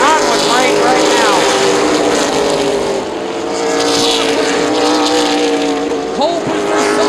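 Late-model stock cars race at Columbus Motor Speedway in a 2014 ARCA/CRA Super Series event, engines roaring loudly and continuously with rising and falling pitch as cars pass, while an announcer talks over the noise.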